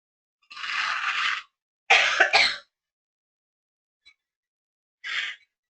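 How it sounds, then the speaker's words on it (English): A person blows their nose in a few separate bursts: a long honk, a quick double blast, then after a pause a short final snort, close up in a quiet room. "I have to blow my nose"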